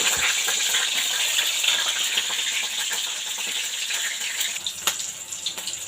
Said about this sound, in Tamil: கடாய் வச்சுட்டு நல்லெண்ணெய் ஊற்றிட்டு பச்சை மிளகாய்,